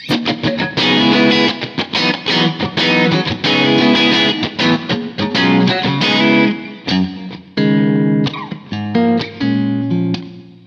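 Modern Eagle V electric guitar played through effects with distortion, the neck pickup engaged via a pull-up tone control for a blended tone; dense strummed chords and lead notes, loud and continuous, no talking.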